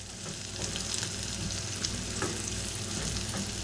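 Green peppers sweating in a hot frying pan, giving a steady close sizzle with faint stirring scrapes over a few seconds, alone without talk.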